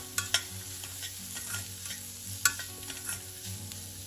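Mixed vegetables with salt and turmeric powder being stirred in a pan, a spoon scraping and clicking against the metal over a soft steady sizzle, with a few sharp taps.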